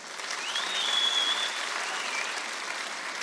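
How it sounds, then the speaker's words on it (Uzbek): Applause for taxi drivers, a fairly faint, steady wash of clapping from a crowd that holds for a few seconds, with a thin whistle-like tone rising briefly above it. "viloyatga, trassaga qatnaydigan taksistlarga bitta qarsak chalinglar."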